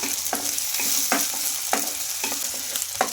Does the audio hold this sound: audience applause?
no